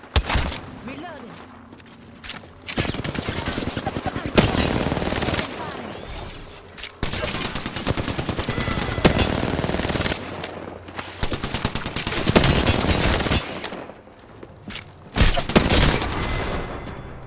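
Bursts of automatic and single-shot gunfire from an Apex Legends ranked match, in loud clustered volleys with short gaps, mixed with game effects and a voice talking over parts of the fight.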